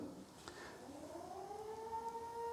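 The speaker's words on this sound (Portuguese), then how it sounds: "Tá tocando a sirene aí." A civil defense siren winds up and holds a rising, wailing tone at 7 o'clock in the evening. It sounds fairly distant and steady, with no talking over it.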